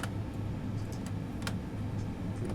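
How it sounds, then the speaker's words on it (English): Boeing 777 flap lever in a flight simulator cockpit sound pack, giving faint clicking detents and ticks over a steady low engine hum, with a few brief mechanical clacks through the short stretch. "I can show you guys how the flaps sound."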